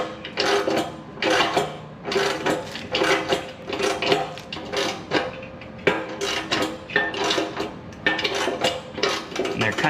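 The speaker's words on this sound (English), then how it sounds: "I just got 4 17mm bolts in here that I'm tightening up." Four 17mm bolts on a Toyota 4Runner TRD Pro aftermarket front bumper, threads gummed with black coating, tightened by a ratcheting wrench in repeated close metallic clicking bursts with short pauses.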